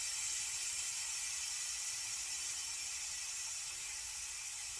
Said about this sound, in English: Even though you can't see the steam, it's still coming out, and you can hear it